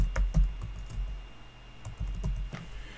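Keys clatter on a computer keyboard as a short file name is typed, a few close, quick bursts of taps separated by brief pauses, with no talking.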